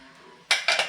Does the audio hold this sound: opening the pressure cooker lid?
yes